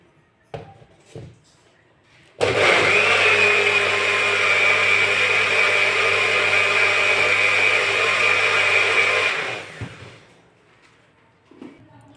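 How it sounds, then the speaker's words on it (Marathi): Mixer grinder blending peanut chutney, a loud steady motor whine running for about seven seconds after a few clicks, then stopping, followed by faint handling knocks. "हे आपण मिक्सरमधून ही चटणी काढून घेतलेली आहे"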